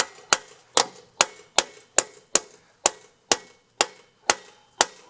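Wood block tapping a rear axle out of a 2013-2017 Kawasaki Ninja 636 motorcycle wheel: a dozen sharp, evenly spaced knocks, close and loud, with quiet gaps and no talking.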